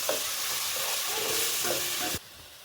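Onion sizzling and being stirred in a pan with raw ground ginger, garlic and green chilli paste for paneer peas butter masala: steady close frying hiss with scraping stirs for about two seconds, then it cuts off abruptly.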